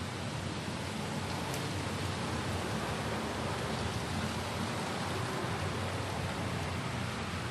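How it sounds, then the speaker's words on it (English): Steady, even hiss of light rain falling continuously, soft and diffuse with no voices or other sounds. "Light, misty rain falling."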